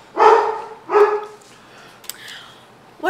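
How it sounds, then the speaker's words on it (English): Lily, a house dog, lets out two loud close barks in quick succession indoors, followed by a quieter yip and a sudden bark at the end. "Lily started barking at the person walking the dog outside"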